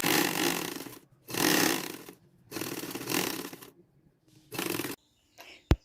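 Sewing machine stitching a 1 cm seam on a dish towel: four close bursts of rapid whirring stitching with short pauses between them, then a few faint mechanical clicks and one sharp tap.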